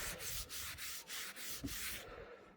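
A wooden sign is rubbed with finish in steady back-and-forth strokes, roughly five or six even rasping passes close by, a dry sanding-like scrub that stops near the end, with no talking.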